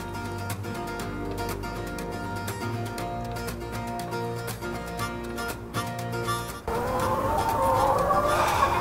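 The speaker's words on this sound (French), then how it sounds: "c'est des poules suisses allemandes." Swiss German hens on a Valais farm cluck and squawk loudly near the end, following a long stretch of music with rhythmic beats.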